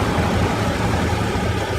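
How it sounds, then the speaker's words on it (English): Truck engine rumbling in the off-road driving game Mudrunner, a loud, steady low-pitched drone heard briefly without talk. "Oh, I hear a truck."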